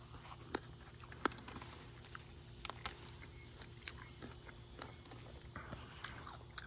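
Someone slowly chews a crunchy Ruby Crisp muscadine grape close to the mic, producing faint irregular crisp crunches and wet bites.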